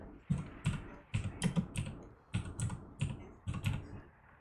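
Bursts of keystrokes on a computer keyboard, typed in quick clusters of a few taps each with short pauses between, close and clear with no voices.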